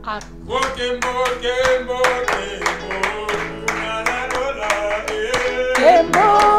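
A church congregation at a French-language prayer meeting claps together in quick, steady rhythmic beats, close and loud, with voices and sung tones blending in beneath the hand claps.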